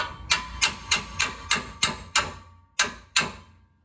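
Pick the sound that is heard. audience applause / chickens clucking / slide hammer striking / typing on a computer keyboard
slide hammer striking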